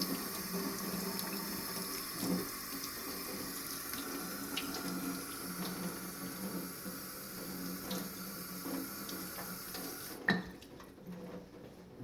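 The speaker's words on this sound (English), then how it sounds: "Rinse it off. Do a nice little rinse." Running tap water streams steadily over chicken of the woods mushroom (Laetiporus sulphureus) as it is rinsed in a sink, a continuous splashing flow with faint knocks, cutting off near the end.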